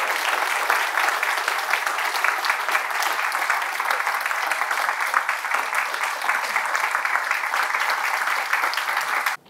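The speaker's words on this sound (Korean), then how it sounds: "오늘 특강 강사님이신 우리 백낙청 교수님을 뜨거운 박수로 모시도록 하겠습니다" Warm, loud applause from an audience welcoming a professor to give a special lecture at a university research institute, steady dense clapping that stops abruptly at the end.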